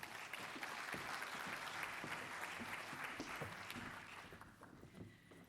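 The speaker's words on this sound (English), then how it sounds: "Let us have a round of applause for Joe and Ray." Audience applause for keynote speakers at a stormwater conference and expo, a dense sustained clapping from a sizable crowd that thins and fades toward the end.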